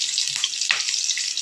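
Oil sizzles and crackles steadily in a pan as onions fry for fish curry, with a couple of brief stirring or scraping sounds.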